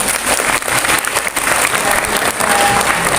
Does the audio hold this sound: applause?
yes